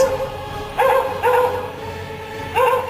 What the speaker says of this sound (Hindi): सुनाई दे रही है तो सिर्फ कुत्ते के भौंकने की आवाज।